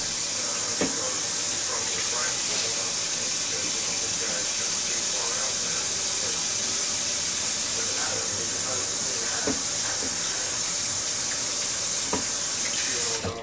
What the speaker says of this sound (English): I'm gonna step over and wash my hands really quick